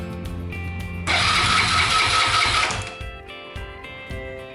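Suzuki GN125 motorcycle, freshly overhauled engine, idling then revved hard at full throttle for about two seconds in a loud rising roar before dropping back to a lumpy idle, close by.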